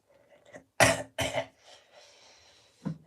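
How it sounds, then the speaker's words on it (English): Two sharp, loud coughs from a person who has been sick, followed by softer throat noises and a final short cough, heard alone indoors. "Sorry about the coughing."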